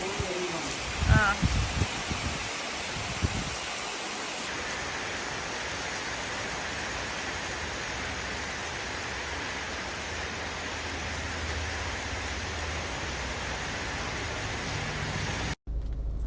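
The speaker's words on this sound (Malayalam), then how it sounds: "രാവിലെ തന്നെ മഴ തകർത്ത് പെയ്യുവാണ് കേട്ടോ" Heavy rain pours steadily outside on a morning, a dense continuous wash of noise lasting throughout, with a few brief voices and knocks at the start before the downpour carries on alone.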